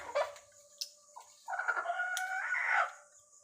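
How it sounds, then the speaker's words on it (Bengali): Large free-range desi hens and roosters in a backyard flock of about five birds, clucking in short bursts and then crowing in a sustained, fairly close call lasting over a second. "এখানে আমার মুরগিগুলো আছে। এখানে 5 পিস আছে, বড় বড় মোরগ মুরগি আছে।"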